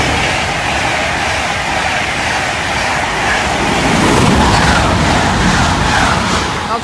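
An LNER passenger service to London King's Cross rolls through Newark Northgate station, a loud sustained rush of wheels and carriages passing close by with a steady rumbling drone and faint rhythmic clatter.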